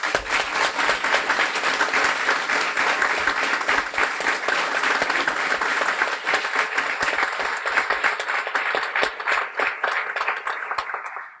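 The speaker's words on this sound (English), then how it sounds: "So you guys deserve a big round of applause" Graduation ceremony crowd, at a Guiding Eyes guide dog school, breaking into loud, sustained applause for about eleven seconds, dense clapping throughout that tapers off right at the end.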